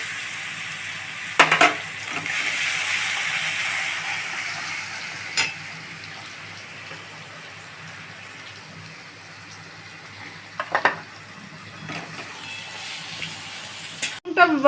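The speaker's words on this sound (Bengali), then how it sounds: "রসুন বাটা আছে, রসুনটা একটু ভাজা হবে।" Garlic paste frying in oil in a pan for potol korma gives a steady, soft sizzle throughout, with a few sharper clatters and stirring knocks near the start and end. Speech can be heard faintly at times.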